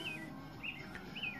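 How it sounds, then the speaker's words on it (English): Birds chirping outdoors at a rural countryside home with a screened porch, a few short high tweets repeating faintly over soft steady background ambience. "Hear the birds chirping."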